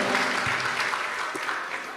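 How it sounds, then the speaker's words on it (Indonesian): An audience at a religious sermon gathering claps loudly and steadily, a dense close burst of applause that gradually eases, with a few voices mixed in. "Tepuk tangan tuh"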